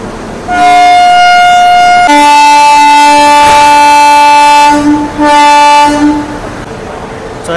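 A WAP7 electric locomotive at a station sounds its loud, sustained two-tone horn in long blasts near the Satavahana Superfast Express, with brief pauses between blasts.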